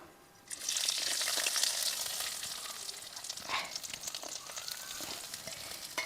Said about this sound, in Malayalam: എണ്ണ ചൂടായിട്ടുണ്ട് നമുക്കിതിൽ ചെറുതായിട്ട് തന്നെ ഒരു ചെറിയ കഷ്ണം ഇഞ്ചി ഒരു നാലഞ്ച് ഇല്ലി വെളുത്തുള്ളി ഒരു പച്ചമുളക് ഇതിലേക്ക് ഇട്ട് കൊടുക്കാം